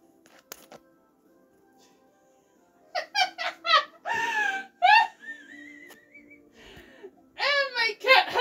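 A pet cat indoors gives several short, close meows in two bursts, with a brief thin whistle-like tone between them against a quiet room background.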